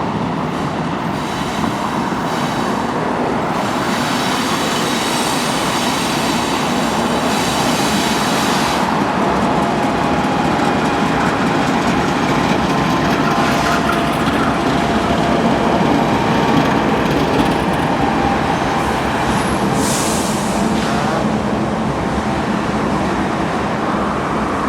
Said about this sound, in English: another Norfolk Southern train in intermodal that is also coming in to stop